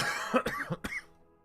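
A few quiet, raspy coughs in quick succession, close by, fading into silence.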